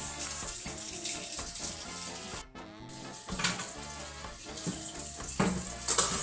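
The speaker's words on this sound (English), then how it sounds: "now I'm going to wash my hands" Hands washed under a running kitchen tap, steady splashing water close by with brief breaks and shifting splatter as the hands move through the stream.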